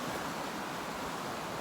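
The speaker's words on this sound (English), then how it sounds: "And we have the Piscobamba River flooding." The flooding Piscobamba River rushes in a steady, dense roar of churning water, loud and continuous with no breaks or voices.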